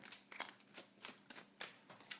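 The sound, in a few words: shuffling tarot cards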